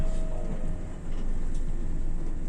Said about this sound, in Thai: รถไฟ JR สาย JR